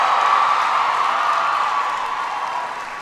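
A large crowd cheers and applauds at a political rally, a dense, loud, continuous roar of clapping and voices that slowly eases toward the end.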